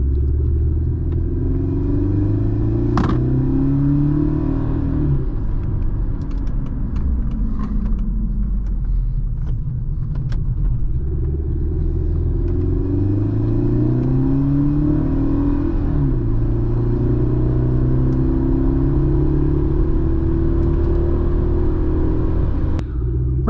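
A 2005 Mercedes-Benz C230 Kompressor W203 in need of a transmission conductor plate is driven gently, its engine rumbling steadily and rising and falling through several gear changes, close and continuous with no talk.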